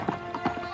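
Horse hooves clip-clopping in a quick galloping rhythm, a few soft thuds in a brief burst against faint background noise.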